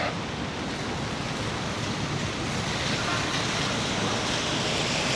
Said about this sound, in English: And the ocean looks still very rough.